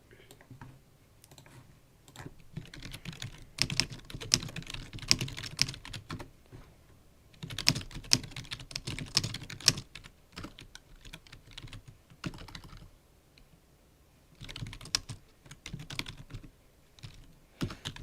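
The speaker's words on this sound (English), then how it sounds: "I do apologize if you guys hear my loud typing." Loud typing on a computer keyboard during live storm coverage, rapid clattering keystrokes in uneven bursts with short gaps, close to the microphone.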